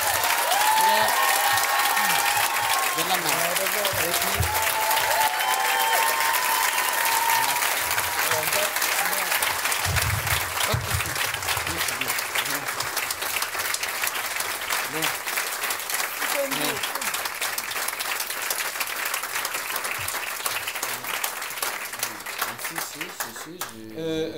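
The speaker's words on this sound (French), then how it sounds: "l'équipe du Spotlight qu'on peut applaudir bien fort" A comedy night audience at a Harry Potter–themed show applauds loudly, a long, dense roar of clapping with crowd noise, strong at first and slowly tapering, with voices over parts of it.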